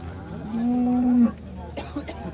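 A single long, low moo from a red pied cow at a livestock market holds steady for under a second, then stops, leaving quiet background noise.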